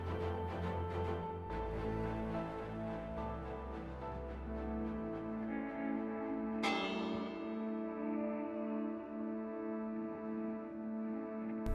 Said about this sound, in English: We had a bell like that in my village.